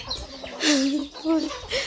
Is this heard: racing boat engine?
no